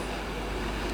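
A Class 390 Pendolino electric train at Birmingham International station on the West Coast Main Line gives a steady, loud rumble of rail noise with no break, heard close by.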